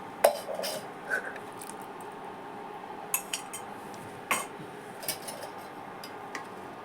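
A spoon stirs milk pudding (payesh) thickened with Amul milk in a pot, giving sparse scraping clinks and light taps at irregular intervals over a quiet kitchen background, with no one talking.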